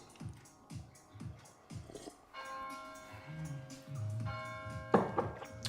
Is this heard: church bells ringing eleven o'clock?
yes